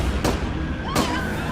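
Gunfire inside a courthouse lobby: two sharp broadband bangs about 0.7 seconds apart, loud and echoing against a dense, noisy background.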